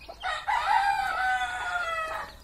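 A desi rooster crows once, a single sustained cock-a-doodle-doo lasting about two seconds, close and clear with farmyard ambience around it.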